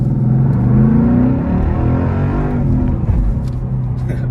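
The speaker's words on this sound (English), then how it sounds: "And listen to this car go." A 2013 Ford Mustang Boss 302 accelerates hard, its engine note rising loudly and strongly near the start. It then settles into a steady, throaty drone with no voices.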